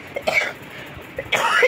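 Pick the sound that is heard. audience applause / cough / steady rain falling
cough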